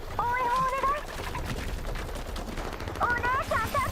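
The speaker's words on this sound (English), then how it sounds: "The sounds of gunfire and the roars of elites can be heard through the comms." Rapid bursts of gunfire over a radio channel in the Girls Frontline 2: Exilium video game, with chirping, warbling electronic tones at the start and end and a steady crackle of shots throughout.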